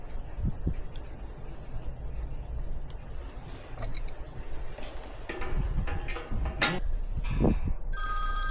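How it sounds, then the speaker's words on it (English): A telephone rings a few times in a room where a fan motor hums steadily, the bright rings standing out over the constant drone. "The phone begins to ring."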